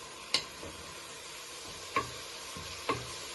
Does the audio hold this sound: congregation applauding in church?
no